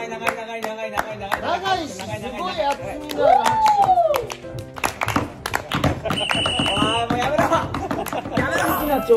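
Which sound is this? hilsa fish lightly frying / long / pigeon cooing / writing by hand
long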